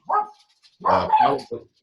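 A dog barks excitedly nearby during an online presentation, a short yip followed by a longer run of loud barks and a final shorter bark, fairly close and clear.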